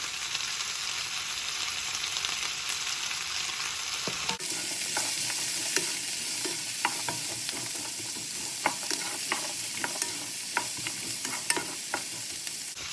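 Asparagus and celery sizzling in a hot pan during a vegan stir-fry, a steady close hiss that changes texture partway through as the pan is stirred, dotted with sharp spitting pops and crackles.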